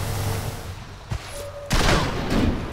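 Rangers opening fire in Civilization Beyond Earth, a sharp crack followed by a loud, rattling volley of gunfire bursts, close and prominent over faint game background.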